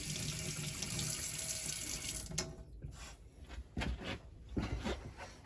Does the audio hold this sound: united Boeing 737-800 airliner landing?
no